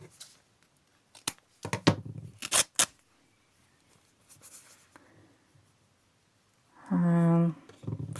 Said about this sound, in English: let's cut these pieces of lace